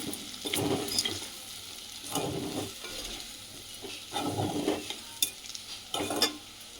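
A spoon stirs coarse salt through a mango and dried fish curry in a pan, giving repeated scraping, scooping strokes in bursts with a light sizzle underneath, close and moderately loud with no talking.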